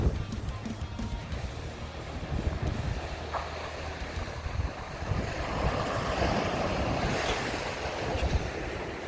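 Surf rolls in at Buffalo Beach near Bunbury, Western Australia, a continuous washing roar of waves mixed with gusty wind buffeting the microphone.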